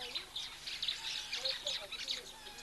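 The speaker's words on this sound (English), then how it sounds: "And you hear those oxpeckers now." Oxpeckers call near a waterhole in the African bush, a run of thin, high chirps and twitters repeating quickly at a moderate distance, with faint talk underneath.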